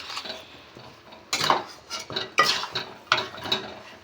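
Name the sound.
stirring chicken curry in a pot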